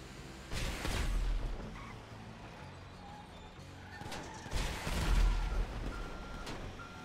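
Bursts of gunfire hit an armored truck in GTA 5: two loud clusters of impacts and shots about four seconds apart, with a steady quieter rumble of gameplay between them.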